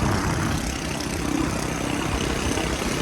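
A motorcycle or vehicle engine runs steadily on a ride to Tagaytay during a typhoon, a constant close droning rumble mixed with broadband wind and road noise, with no talk.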